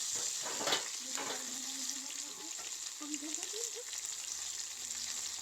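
Rice fries in a pan with a steady, soft sizzle and hiss that runs throughout, broken by occasional stirring scrapes and a faint squeak.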